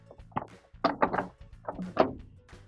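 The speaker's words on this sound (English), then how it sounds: "And we can put our dispenser drawer back in." A plastic detergent dispenser drawer on a Kenmore washing machine is slid back into its slot, giving a close series of scraping squeaks and soft thunks over a few seconds.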